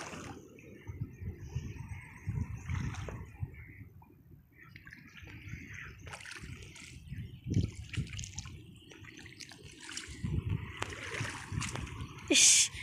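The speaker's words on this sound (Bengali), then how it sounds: "এই দেখো আমরা জলে পা দিচ্ছি" Feet wading and splashing through shallow river water in a Jharkhand village, soft intermittent sloshes and trickles, fairly faint, with a background of outdoor ambience.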